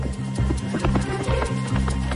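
Horse hooves clip-clop in a steady, rhythmic gait as the animal is ridden during a riding lesson, loud and close, with a faint voice and a brief whinny mixed in.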